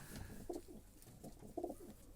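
Pigeons in breeding boxes coo in two soft, throaty bursts a second apart, fairly close against a quiet background.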